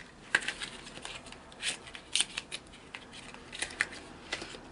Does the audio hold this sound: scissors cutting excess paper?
yes